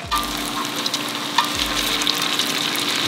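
Lumpia frying in bear fat gives a steady, close crackling sizzle with a faint hiss throughout, broken by a few low bumps from handling the pan.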